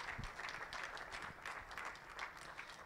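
Faint, steady applause from an audience at a certification ceremony broadcast, a soft wash of many hands clapping at a distance with no clear talk over it.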